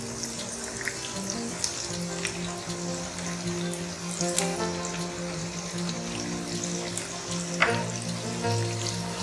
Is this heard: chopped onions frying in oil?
yes